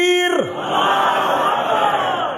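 A gathered crowd at a religious sermon roars a religious slogan in unison in response, a loud, sustained collective shout rising just as a single voice's call trails off.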